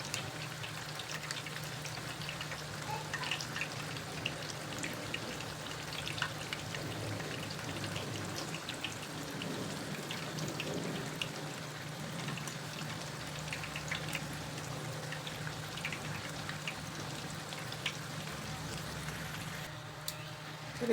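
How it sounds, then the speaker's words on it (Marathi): Potato lachha katori fry in hot oil over a low flame, a steady fine sizzling crackle that holds at a moderate level throughout, close and continuous. "आणि लो फ्लेमवरतीच तळून घ्यायचं अगोदर तेल छान तापू द्यायचे"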